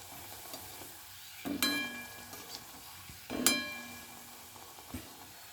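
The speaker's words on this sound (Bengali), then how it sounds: "একই রকমভাবে আমি সব কটা ভেজে নেব।" Luchi, a puffed flatbread, is fried in hot oil with a soft steady sizzle broken by two bright metallic clinks as it is stirred and turned, close and fairly quiet.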